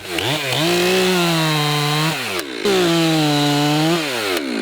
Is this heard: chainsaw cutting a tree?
yes